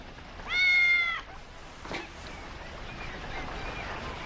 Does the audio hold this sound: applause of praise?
no